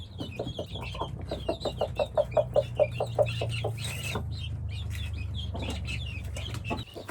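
A broody mother hen clucks in a quick, rhythmic run of calls to her adopted chicks and guinea keets, loud and close, then settles into softer clucking over a steady low barnyard hum.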